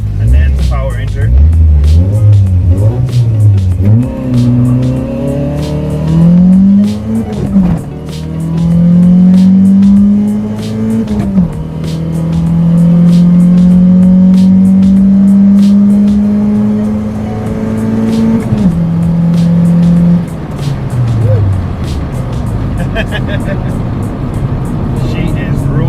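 A car with a stock Toyota 4AGE engine pulls away from a standstill, revs climbing loudly through the gears with brief dips at each shift, a strong, close engine note held high for long stretches.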